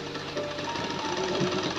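A sewing machine stitches lining to the main fabric of a net sari being made into a long gown, running in a steady, close, continuous whir with no talking.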